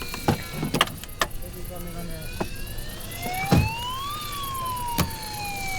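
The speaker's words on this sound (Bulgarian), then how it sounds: "И аз имам голема, мощно сирена" A loud, powerful siren wails with tones that sweep up and then slide back down, broken by several sharp clicks and knocks close by.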